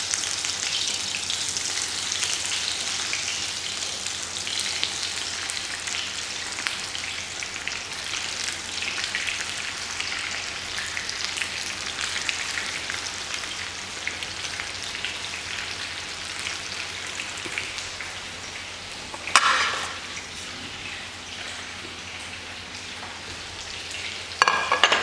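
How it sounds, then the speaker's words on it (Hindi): Cauliflower florets deep frying in a batch in medium-hot oil, a soft continuous bubbling sizzle held at an even level, with a brief louder burst of crackle near the end and no talk. "तो बैचेस में हम इसे फ्राई कर लेंगे।"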